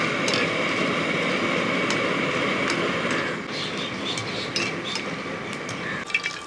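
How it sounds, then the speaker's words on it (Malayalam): Dried red chillies frying in hot coconut oil, a dense continuous sizzle and crackle with occasional sharp pops and light utensil clinks, steady throughout with no talk. "ആ മുളക് ഒന്ന് എണ്ണയ്ക്കകത്ത് ഇട്ട് കൊടുക്കുക ഇതൊന്ന് വറുത്ത് കോരണം"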